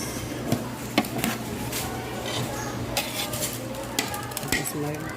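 Mixed vegetable guisado being stirred in a pot, with a spoon scraping and clinking against the metal and a faint sizzle underneath, plus brief bits of talk.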